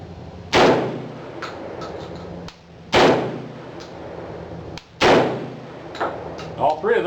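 Three loud, sharp shotgun blasts from a Remington Model 11 firing light 17-grain loads, spaced about two seconds apart, each with a short ringing decay and a mechanical clack of the action cycling, over quiet outdoor background.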